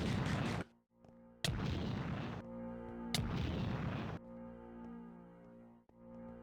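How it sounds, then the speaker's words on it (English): Heavy energy blasts from a Ki Barrage attack in the Minecraft mod game Dragon Block C, three loud booming bursts with long ringing tails and a low droning tone behind them, and no voices. "I meant to use, Ki Barrage"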